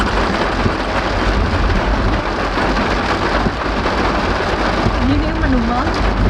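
Heavy rain pours on a car in a dense, continuous roar of drumming drops, loud and close, with low rumbling underneath.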